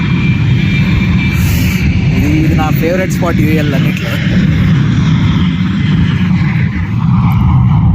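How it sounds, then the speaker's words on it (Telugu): An airplane passes overhead outdoors with a continuous broad engine roar that fills the background, while a person talks over it. "ఫ్లైట్ సౌండ్ వస్తుంది"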